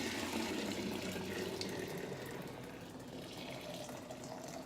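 Pink raspberry lemonade pours steadily into a container, a continuous splashing trickle that fades a little toward the end.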